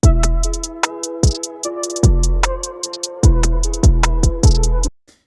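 A beat loops with punchy bass kicks, crisp snare and hi-hat ticks, and an added percussion hit dropped into the gaps, repeating in a tight groove before stopping abruptly, loud with no voices.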